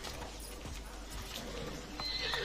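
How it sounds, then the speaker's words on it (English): A horse in the Assassin's Creed Odyssey video game, faint clip-clopping hooves with a short whinny near the end over quiet game ambience. "It's a very nice horse. A sturdy horse."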